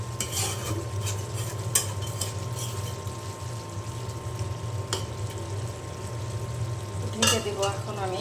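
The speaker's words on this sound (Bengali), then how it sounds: "এখন ভালো করে আমি নেড়ে দিব" A utensil stirs chicken frying in a pan for a braised bhuna dish, with scraping and clinking strokes over a steady low sizzle and a faint hum.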